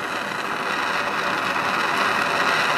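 An air impact tool works on a track bolt of a Ski-Doo Rev 800 snowmobile, making a steady, loud, dense mechanical rattle that is close and continuous for the whole moment, with no voices.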